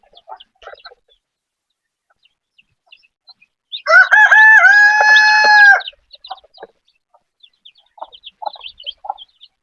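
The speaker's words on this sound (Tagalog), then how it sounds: "kukunin ko na po yung mga sisiw para po makakain na po sila" Chickens and young chicks on a farm, with a rooster's loud drawn-out crow of about two seconds standing out over scattered soft clucks and high chick peeps before and after.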